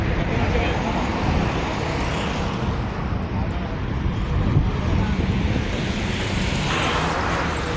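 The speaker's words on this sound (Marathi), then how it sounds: "एक विमान गेलं ते बघा. ते टेक ऑफ झालं" An airplane taking off at Navi Mumbai International Airport at night, a loud, continuous broadband roar of jet engines holding steady from a distance, with no voices.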